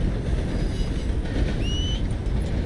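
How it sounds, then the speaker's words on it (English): A train in the video game Red Dead Redemption 2 rumbles past with a steady heavy roar and a brief high metallic squeal of wheels, no voices. "there's a train coming"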